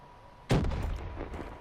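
A single heavy blast bursts out from a grenade in the video game Black Ops 3, followed by a rumbling, noisy tail of lingering battle sound, loud and close, with no talking.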